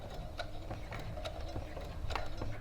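A home sewing machine back stitches at the end of a seam on a small pin cushion, giving a short run of rapid ticking needle strokes, close and steady, with a faint low motor hum beneath.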